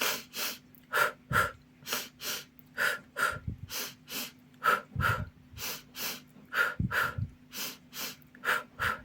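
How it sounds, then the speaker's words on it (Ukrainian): Children do a group breathing exercise in a vocal ensemble class, taking repeated rhythmic double inhales through the nose and mouth, a steady series of close, loud sniffs and breaths with no talk. "беремо два рази вдох через нос і два рази через рот"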